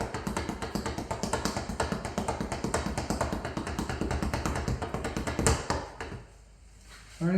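Fists strike a speed bag in a rapid fist roll, a dense, even train of sharp close taps for about six seconds before stopping abruptly into near silence.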